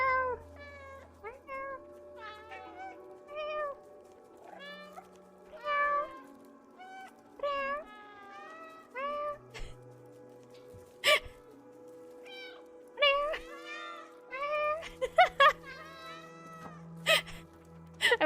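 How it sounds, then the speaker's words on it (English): The cat in the video game Stray meows again and again, with many short, clear meows, some rising and some falling, and a few soft sighing sounds against quiet game ambience. "I will not stop meowing."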